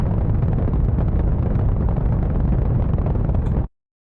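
A spacecraft engine burn in the video game Kerbal Space Program is a loud, dense roar that holds steady for several seconds, then cuts off abruptly into silence.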